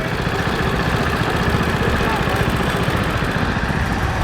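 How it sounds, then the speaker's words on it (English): The engine of a 1957 Manco lawnmower runs at an antique tractor show in Maryland, a steady, noisy putter that holds at an even pitch throughout with no pauses. "a 1957 Manco lawnmower, owned by Brian Barnes."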